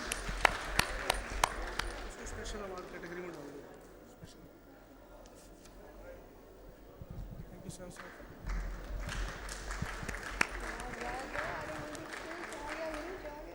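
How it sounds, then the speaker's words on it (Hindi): Audience clapping at a welfare and educational society function in Chamba, scattered sharp claps at first, dipping low in the middle, then swelling again into fuller applause, with voices and room murmur underneath. "तालियां बजाते रहिए प्लीज।"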